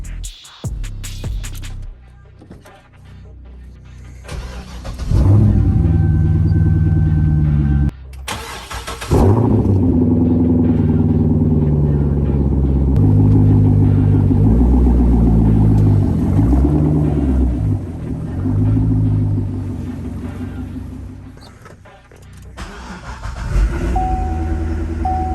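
Two C5 Corvettes are being moved, their engines running as a loud, steady rumble with shifting pitch for most of the clip. Brief idle and startup sounds frame it, and no one speaks.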